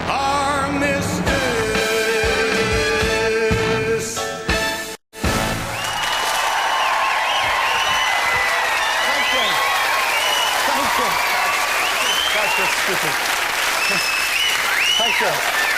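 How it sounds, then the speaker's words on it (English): Loud, sustained studio audience applause at a 1995 television comedy show, the Saturday Night Armistice, starting after a brief burst of music and a short dropout, then a dense, steady wash of clapping with scattered cheers. "sometimes I think it just isn't physically possible to applaud a man as much as you've just done"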